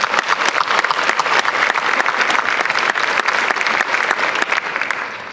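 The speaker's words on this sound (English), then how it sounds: "Round of applause for Lieutenant Governor Patrick." A large audience at a Texas gathering claps steadily for Lieutenant Governor Patrick, a dense, loud and sustained applause that tapers slightly at the very end.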